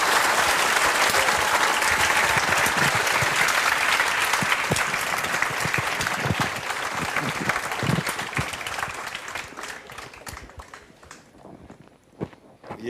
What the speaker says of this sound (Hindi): उतनी तेज ताली बजानी है